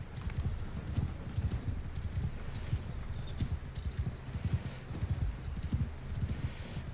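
Hooves of a horse ridden in Mount & Blade II: Bannerlord clip-clop in a steady galloping rhythm, loud and close, with a faint whinny blended into the busy battlefield din.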